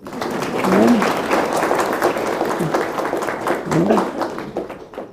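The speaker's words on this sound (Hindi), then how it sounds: "खुशी में ताली बजा लो" Group clapping in joy at a spiritual gathering, a steady rattle of hands with voices talking and calling out over it throughout.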